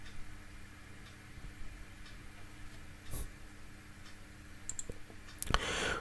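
A computer mouse gives a few faint, scattered clicks at a desk, isolated taps over a quiet room hum with no talk.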